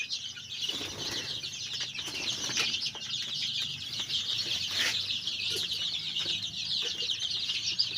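A flock of 89 chicks, 22 days old, fills a coop with constant high-pitched cheeping and clucking, with occasional wing flutters over a steady background hum.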